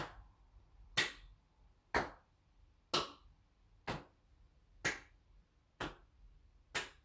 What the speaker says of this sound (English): Last tap and clap. Tap the legs, tap the hands.